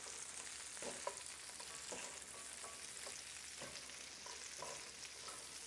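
Haricots verts are tossed with caramelized shallots in butter in a hot pan, making a quiet, continuous sizzle with a few soft stirring scrapes and clacks, heard without any voices.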